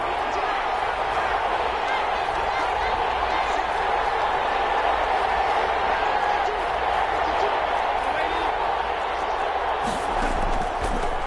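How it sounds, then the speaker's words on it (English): Stadium crowd cheering in a football video game ahead of a big third down: a continuous, dense crowd roar, fairly loud and steady, swelling slightly near the end. "The crowd getting into it as we come up on a big 3rd down."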